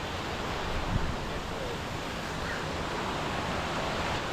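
Rushing water at Mangalam waterfall, a steady broadband roar that fills the whole clip at an even, loud level with no breaks or distinct events.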